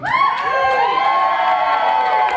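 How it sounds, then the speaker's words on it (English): A crowd at a live wrestling event in Lincoln cheering and shouting loudly, with high whoops and children's voices in a dense, continuous roar. "Paul Malin, obviously a crowd favourite in Lincoln"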